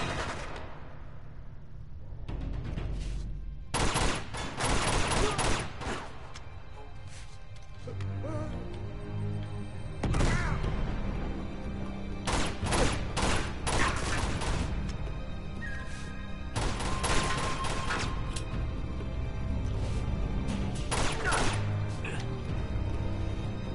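Bursts of Uncharted 2 gunfire crack out in repeated loud volleys, some rapid and clustered, some isolated, with quieter stretches between them and a player talking in places.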